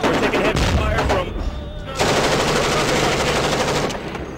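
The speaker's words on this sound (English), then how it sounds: "We're taking heavy fire from..." Heavy machine gun fire during combat in Afghanistan's Korengal Valley, loud, dense, continuous rapid shots blending into a roar, with a brief dip before the firing surges again, and a voice talking over it.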